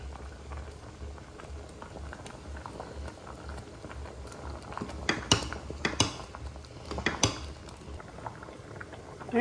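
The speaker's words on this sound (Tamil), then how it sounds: "பாருங்க கொதிச்சிட்ருக்கு" A pot of tomato and onion sambar bubbles on the stove with a steady low simmer, and a few sharper clinks and pattering splashes come in midway as things are added.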